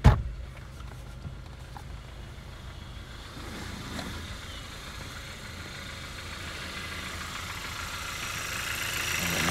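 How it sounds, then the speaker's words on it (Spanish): A car engine idles smoothly and steadily after a throttle body reset, a low even hum that follows a brief thump at the start and rises slightly in level toward the end. "Mucho mejor, se oye mucho mejor el motor, más tranquilo, antes estaba muy acelerado."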